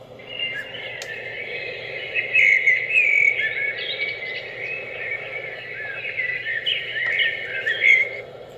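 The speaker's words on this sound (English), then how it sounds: "have the bird sound." Bird setting on a white noise sleep machine: a chorus of high chirps and tweets, with a cricket-like trill, over a soft steady hiss. Moderately loud and continuous, with no talking.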